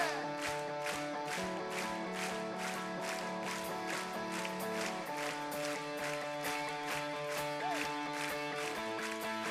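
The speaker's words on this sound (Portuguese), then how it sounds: "Aplauda o nosso Deus" A church congregation claps in steady rhythmic time along with music during a worship service, with regular beats over sustained instrumental tones and background voices.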